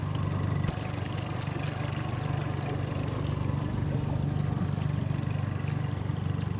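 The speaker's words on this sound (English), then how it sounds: "So this is the Merc ELPT 60 horsepower motor." A Mercury ELPT 60 horsepower outboard motor on a Stryker RIB 420 boat runs steadily, a faint, even low drone with a constant hum throughout and no talking.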